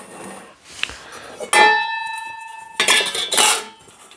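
Metal pieces of a Kelly Kettle Ultimate Scout cook kit clatter as they are stacked together: a bright ringing clang that sustains around the middle, followed by two bursts of close scraping and knocking of pans and cups, with no talk.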